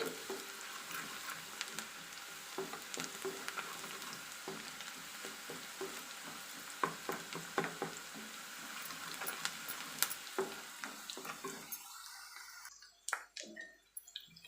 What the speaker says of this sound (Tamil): இப்போ நம்ம வெங்காயம் வந்து இந்த அளவுக்கு வதங்கினா போதும்